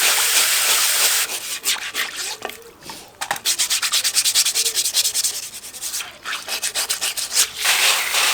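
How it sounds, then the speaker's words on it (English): Stiff brushing and scrubbing inside a small ricefish mini pond, a steady run of close, rasping back-and-forth strokes with brief pauses, alone without talk. "So now we're gonna brush this up, clean it up"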